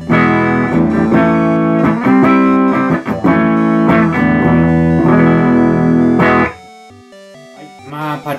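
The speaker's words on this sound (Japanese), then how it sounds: "今回使用するアンプはマーシャルのバルブステート 8080モデルのクリーンチャンネルになります。" An electric guitar through the clean channel of a Marshall Valvestate 8080 amp plays bright, ringing chords and single notes at close range, then stops suddenly, leaving a few quieter plucked notes.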